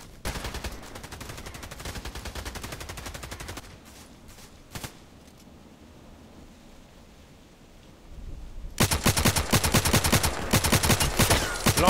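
Gunfire in Contract Wars, loud rapid automatic bursts at first and again near the end, separated by a quieter stretch with a few isolated shots.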